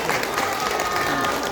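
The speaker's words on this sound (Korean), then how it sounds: "박수로 환영해 주실까요?" A brief burst of dense audience applause welcomes a young cellist at an office opening ceremony, with a murmur of crowd voices mixed in.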